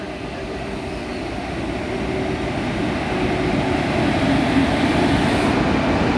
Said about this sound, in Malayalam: ഇൻ്റർസിറ്റി ട്രെയിൻ 2 നമ്പർ പ്ലാറ്റ്ഫോമിലോട്ട് വരുന്ന ഒരു ദൃശ്യമാണ് പ്രേക്ഷകർ കാണുന്നത്